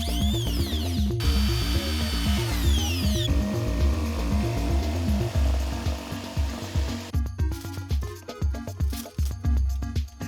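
A handheld power tool whines through shifting pitches, then breaks into rough, rhythmic cutting bursts, loud and close with no talking.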